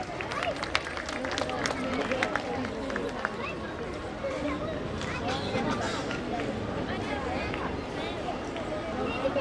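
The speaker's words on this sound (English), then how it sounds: "Applause for our greenhouse captain." A school audience applauds its greenhouse captain at a scholarship ceremony, with steady, dense clapping that carries on for the full stretch over a murmuring crowd.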